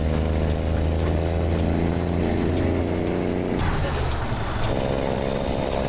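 A truck with a Cummins N14 engine in American Truck Simulator drones steadily and loud throughout, with a sharp air brake hiss bursting out near the end.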